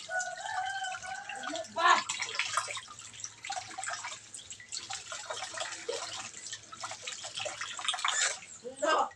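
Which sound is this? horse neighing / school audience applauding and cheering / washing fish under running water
washing fish under running water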